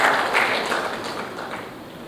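Audience applause at an air cargo industry conference in India, a dense burst of clapping that starts loud and gradually fades.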